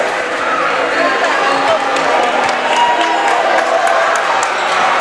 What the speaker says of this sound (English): Cheverus crowd is raucous.